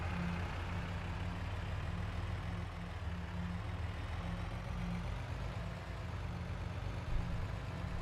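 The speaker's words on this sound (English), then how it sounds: "going to haul that grader down here with our truck." A heavy truck engine in Farming Simulator 22 drones steadily while hauling a grader, a deep continuous low rumble close and even in level throughout, with no voices.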